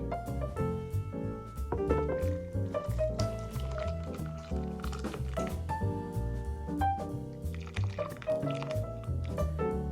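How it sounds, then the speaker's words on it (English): Soup liquid pours into a bowl over onions, a continuous splashing, bubbling flow that gradually changes pitch as the bowl fills. "And now I will pour in some of the liquid."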